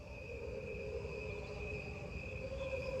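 Backyard crickets, slowed down and played over a keyboard, form a steady, sustained chorus of layered tonal drones and shimmering pulses, even and unbroken throughout, with no voices.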